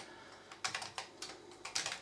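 Typing on an Amstrad CPC keyboard: a short run of soft, distinct key clicks in an uneven rhythm, faint and close, with no talking.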